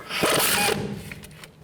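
A socket wrench ratchets on a sway bar link nut of a 2007-2015 Chevy Silverado 1500, a close burst of rapid clicking followed by a few scattered softer clicks, with no talking.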